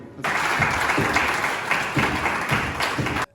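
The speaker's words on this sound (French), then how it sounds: "je demande à tout le monde de l'applaudir" An audience at a provincial assembly session in Kwango applauds the provincial governor, a dense, steady burst of clapping that starts abruptly, holds evenly for about three seconds, then cuts off.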